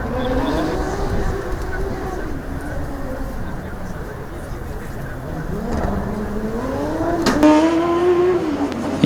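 A Zurich Formula Student race car running the skid pad, its engine tone rising and falling in smooth sweeps as it circles, with a sharp rev near the end, under steady commentary talk.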